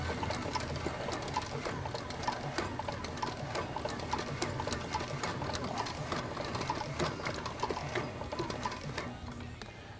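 A sewing machine stitching a repair on a Rick Bronwell skate tendon guard, a continuous fast mechanical chatter of the needle running steadily at close range, no speech.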